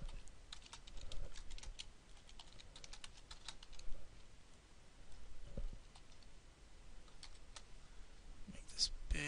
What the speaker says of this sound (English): Let me just type out this formula.